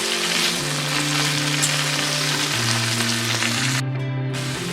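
Chopped pumpkin leaves fry steadily in a hot pan with cumin and green chillies, a constant broadband sizzle with low humming tones underneath and a brief gap near the end where the hiss drops out.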